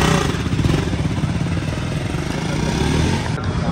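A Yamaha RX two-stroke motorcycle idles close by, its engine giving a steady, loud, rapid burbling putter that runs without a break and hides any other sound.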